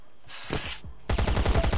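Rapid automatic gunfire in a survival shooter game, a loud fast burst of evenly spaced shots following a brief whooshing effect, with no talking.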